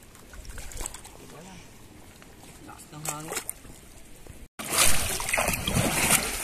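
A small bangka boat carries passengers across the water. People talk over a low background at first, then a louder, rushing wash of water and motion noise takes over after a brief cut.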